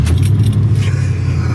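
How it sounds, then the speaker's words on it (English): A 1993 Ford F150 SVT Lightning V8 runs with a deep, steady, loud rumble close by, with keys jangling in the ignition over it. "there was a nice meaty V8 rumble when you fire it up"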